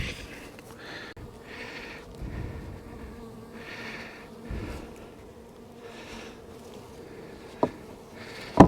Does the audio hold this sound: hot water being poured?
no